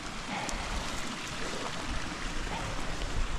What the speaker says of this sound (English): So we've got hole and flowing water there.